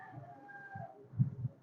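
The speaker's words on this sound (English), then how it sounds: "this is why you hear the roosters in the background" Roosters crowing in the background of a quiet night setting, with a couple of low, muffled calls standing out near the end, faint and distant.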